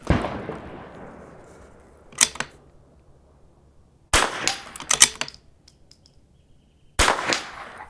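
Rifle shots at an outdoor shooting range during an NRL22 match course of fire: three sharp, loud reports spaced a couple of seconds apart, the last followed by a short ringing tail, with no talking.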